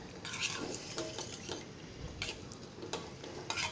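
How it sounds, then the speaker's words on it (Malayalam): A spoon stirs a tamarind curry in a pan after spice paste and water go in, making irregular soft scraping and light metallic taps against the pan under a low, steady background hiss. "അതിനുശേഷം നന്നായിട്ടൊന്ന് ഇളക്കിയെടുക്കുക."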